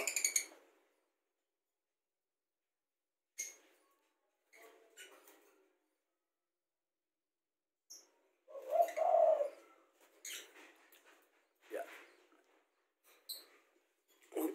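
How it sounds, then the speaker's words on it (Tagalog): Lovebirds and spotted doves calling inside a cage, sparse short chirps and a soft cooing burst scattered through near-silence, quiet and close. "Ayan yung dalawang lovebirds."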